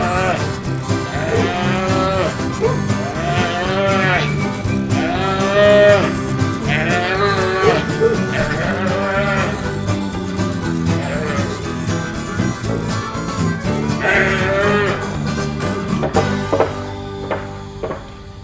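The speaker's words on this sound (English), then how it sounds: "That looks like a little Hereford cow." A Hereford cow moos loudly and repeatedly on a farm, with several long drawn-out calls close by and a low outdoor background.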